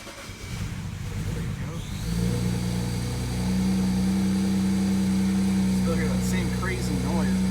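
A BMW 335i N54 engine with remanufactured fuel injectors and a check engine light cranks and catches about two seconds in, then settles into a steady, throbbing idle close by.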